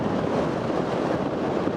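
Strong wind buffets the microphone on an exposed mountain overlook at Blowing Rock, North Carolina, a loud, steady roar of gusting noise that fills the whole stretch with no speech.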